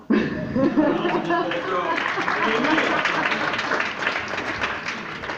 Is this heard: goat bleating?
no